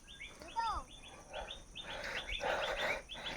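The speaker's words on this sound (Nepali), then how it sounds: "एकदम शान्त, चराचुरुङ्गीको आवाज" Small birds chirp and twitter repeatedly in short rising calls along a quiet village footpath, fairly near and moderately loud. A few faint low sounds sit underneath.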